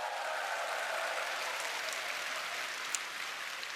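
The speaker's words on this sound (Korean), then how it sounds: "자신의 꿈을 향해서 한번 큰 박수 한번 부탁드리겠습니다" Audience applause from business owners at a motivational talk, a steady dense clapping that holds evenly for several seconds with no voices over it.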